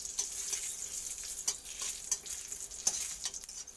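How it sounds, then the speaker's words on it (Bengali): Green chili fries in mustard oil with cumin seeds, a quiet, crackling sizzle broken by a few light stirring clicks from a spatula, heard alone at close range. "আমি এখানে লঙ্কাটা ভেজে নেবো, সেই জন্য সরষার তেল আর একটু জিরা দিয়ে দেবো।"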